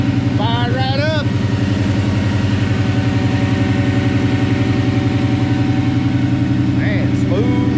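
A newly finished car with fresh exhaust work idles with a steady, deep, even rumble that holds throughout. Brief voices rise over it near the start and again near the end.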